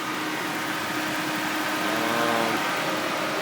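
A 2005 Dodge Durango 4x4's engine runs steadily at close range, a continuous rumbling hum with a slight rise partway through, no voices over it.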